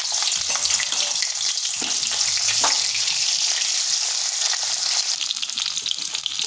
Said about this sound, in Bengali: ফুলকপিগুলো বেশ কিছুক্ষণ সময় নিয়ে ভাজতে হবে, এইভাবে লাল লাল করে ভেজে নিতে হবে